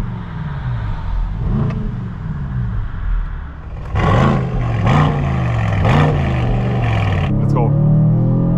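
An Aston Martin DBX 707 SUV, 707 hp, accelerates hard on a German road, its engine rising in pitch through several quick upshifts with brief dips between gears, loud and close from inside the cabin.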